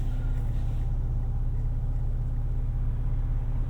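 A 2026 Ford Ranger Raptor midsize truck in normal drive mode gives a steady, loud low engine rumble with an even droning hum and no talking over it.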